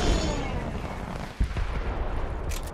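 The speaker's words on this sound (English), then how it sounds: "Watch out for the rocket, guys. Rocket coming out." A rocket fired in a Fortnite match roars with a dense, sustained blast and a sharp jolt partway through, loud and close, with no talk over it.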